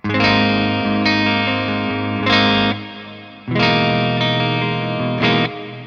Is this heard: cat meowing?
no